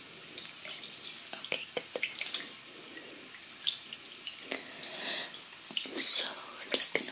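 Tap water runs and splashes close up as hair is wetted before shampooing during a haircut roleplay, a soft, uneven patter of drips and trickles under a quiet voice.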